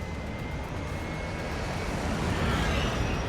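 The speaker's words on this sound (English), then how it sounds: "Cool fucking future helicopter." Futuristic helicopter flying in Astral Chain, a steady whooshing, roaring engine wash that swells slightly louder toward the end, with no voices over it.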